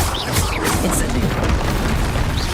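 An Incendio fire spell is cast in Hogwarts Legacy, a loud continuous whooshing, booming burst of magical flame that fills the whole moment.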